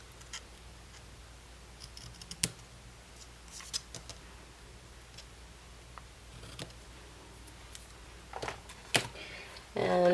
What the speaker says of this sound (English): I'm just going to get my scissors and cut these bows down a little bit